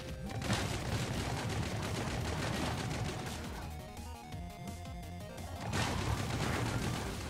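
Video game Hive Jump battle with dense, continuous gunfire and explosions, loud and busy throughout, easing slightly in the middle before swelling again.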